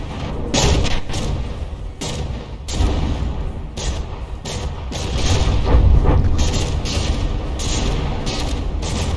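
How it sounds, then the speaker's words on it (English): Battleships trading fire in the naval combat game From the Depths, with repeated heavy booms and thuds mixed with mechanical clanking, arriving in irregular loud bursts over a continuous rumbling background. "There had to have been some secondary explosions or something."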